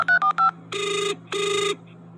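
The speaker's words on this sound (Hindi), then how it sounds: "वो अपना फोन निकालकर आयशा को कॉल करता है" A phone ringtone plays alone, a few quick electronic beeps followed by two longer buzzing rings with a short gap between them.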